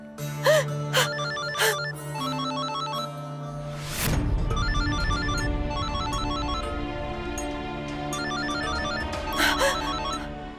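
A telephone rings repeatedly in a scene from an Indian TV drama series, with a clear electronic ringtone pattern repeating near the listener and a brief whooshing swell partway through.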